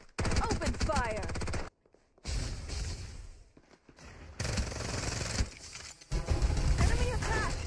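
Gunfire in the battle royale shooter Farlight 84, loud rapid bursts of weapon shots with brief gaps of silence, mixed with game voice lines spoken over the action.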